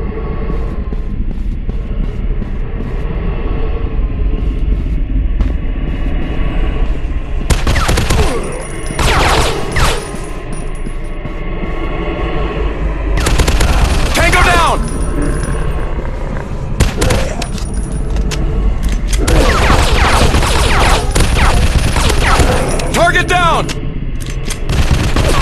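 Gunfire in the zombie shooting game Zombies Fire Strike, set in an industrial war zone: loud bursts of rapid automatic shots and single cracks, broken by brief pauses, with game voice lines calling out over the action.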